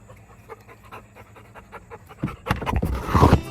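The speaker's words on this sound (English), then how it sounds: "probably when the dog jumped up." A dog pants close by in quick, rhythmic breaths, faint at first and then growing louder and heavier toward the end.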